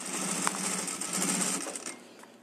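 A sewing machine runs a short burst of rapid, even stitching along a 3 mm finishing seam at the edge of a piece, close and fairly quiet, with no talk.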